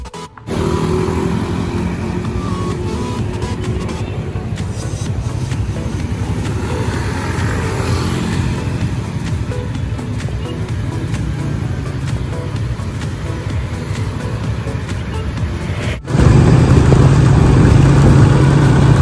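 A motorcycle's steady engine drone with rushing road and wind noise continues throughout, growing louder and rougher near the end as if riding at speed.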